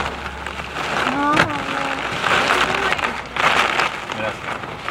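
Heavy rainstorm on Long Island, New York, pouring steadily on nearby surfaces with a dense wash of noise and gusts, while people talk over it.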